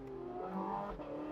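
Porsche 918 hypercar engine and exhaust on a mountain pass, roof off, a steady loud engine drone with a slight rise in revs, close and continuous with no talk.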